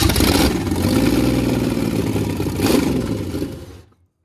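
A carbureted 1986 Chevy 4.3 V6 with a broken, leaking fuel line catches during a start attempt, rumbling loud and close with a brief rev before cutting out abruptly into silence.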